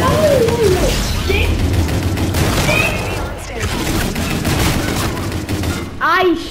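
Shotgun blasts and rapid gunfire in a first-person shooter video game, loud bursts of booming shots layered over voices talking, with a dense, clattering stretch of fire.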